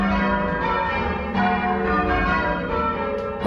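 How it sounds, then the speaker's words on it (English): Church bells peal from the tower of the deconsecrated Church of St Clement on the Ipswich waterfront in eastern England, rung by a team of bell ringers, a dense loud wash of overlapping bell strikes with no voices. "the bells at the Church of St Clement ring out"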